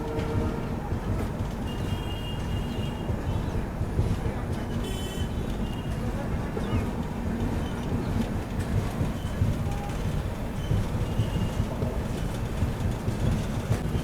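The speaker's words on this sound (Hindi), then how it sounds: "2 मिनट के स्टॉप के बाद अभी अपनी ट्रेन निकल रही है हैलाकांडी रेलवे स्टेशन से।" A train pulls out of Hailakandi railway station after a two-minute stop, a steady loud rumble of wheels and carriages with occasional faint squeals, heard from on board.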